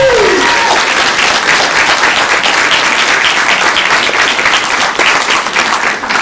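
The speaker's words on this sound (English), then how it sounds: "give ourselves a massive round of applause" Dense, sustained applause from an evening audience at a team presentation, many hands clapping loudly and steadily for the whole stretch without letting up.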